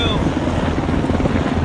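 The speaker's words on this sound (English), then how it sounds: "that's 3 helicopters" Three helicopters fly overhead, their rotors making a loud, steady chopping roar with wind buffeting the microphone and voices faintly underneath.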